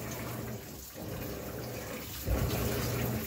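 Maytag top-loading washing machine without an agitator filling with cold water, a faint steady rush and splash that swells louder partway through.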